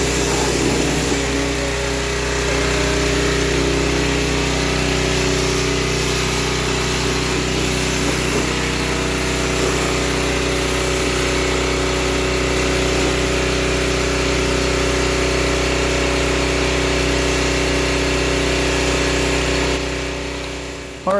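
A small high-revving engine runs steadily and loudly throughout, a homemade experimental motor holding an even, buzzing drone with constant pitch and no pauses, close to the listener.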